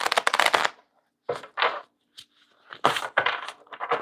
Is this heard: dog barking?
no